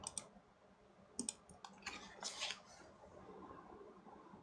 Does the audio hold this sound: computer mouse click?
yes